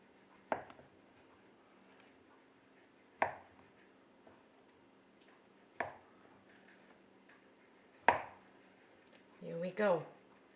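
A knife chops through bread dough for a pull-apart loaf, with four separate firm thuds on a board spaced a few seconds apart. The sound is close and quiet, and a brief voice is heard at the end.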